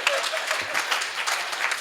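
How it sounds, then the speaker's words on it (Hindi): Audience applause at a Hindi comedy poetry show (hasya kavi sammelan), a steady wash of clapping that holds through the whole moment without breaks, no single voice standing out above it. "ताली तो जोर से बजाओ।"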